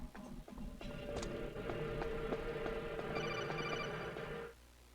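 A codec phone rings in Metal Gear Solid: Twin Snakes, a steady electronic trilling ring that holds for about four seconds and then cuts off, heard alone over faint game background.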